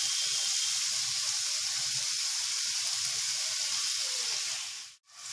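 Soy sauce hits a hot frying pan with a steady, loud broadband sizzle and hiss, close up, with faint stirring scrapes underneath and a brief dip near the end; no one talks.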